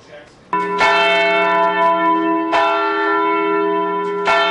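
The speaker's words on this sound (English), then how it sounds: "The bells rang at St.Emeric Catholic Church like they do every day" Loud church bells at St. Emeric Catholic Church ring out with rich, sustained tones during a protest, fresh strikes landing about every two seconds over a continuous shimmering hum.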